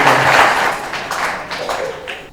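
A church congregation applauding young couples during a Sunday Advent service, a short, dense burst of clapping from many hands that fades slightly over a couple of seconds.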